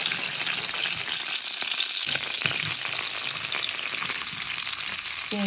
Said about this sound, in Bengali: পেঁয়াজটা একটু ভালো মতো ভাজি নিলাম